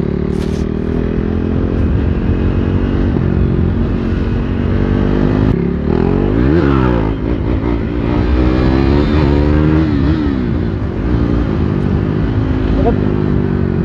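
A KTM Duke 390 BS3 motorcycle pulls hard in second gear during a wheelie, its engine loud and close with rising and falling revs, while a rider talks over the noise.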